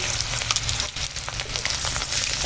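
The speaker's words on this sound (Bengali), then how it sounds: "এখন তেলের ওপর দেবো এই যে কাঁচা লঙ্কা চিরা পেঁয়াজ তেজপাতা পাঁচফোড়ন" Slit green chillies, onion, bay leaf and panch phoron hit very hot oil left from frying fish, giving a loud, close, crackling sizzle that lasts the whole moment without any voice.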